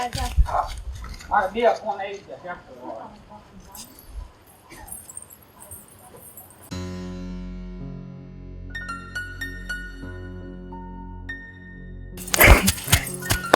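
Dishes and utensils clatter and clink as they are washed, with irregular metallic knocks and scrapes, a stretch of ringing metal tones, and a loud burst of clanging near the end; people talk at times.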